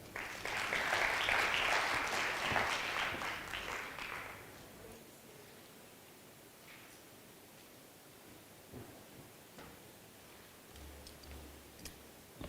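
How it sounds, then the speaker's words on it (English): Audience applause at a wildlife economy conference breakaway session, a clear burst of clapping for about four seconds that fades out, leaving quiet room noise with scattered small clicks and rustles. "Another round of applause for Sue"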